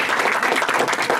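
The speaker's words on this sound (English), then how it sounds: "Another round of applause for our panel," Brief burst of audience applause for a panel at a live event, a short, dense patter of clapping that carries steadily through its one second.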